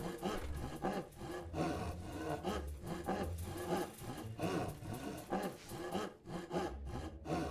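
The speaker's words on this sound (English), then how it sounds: "Is he sawing the workbench in half?" A worker in the video game Dungeons 3 saws a workbench with a steady back-and-forth rasping rhythm of woody sawing strokes. The sound is continuous and fairly full, with game ambience underneath.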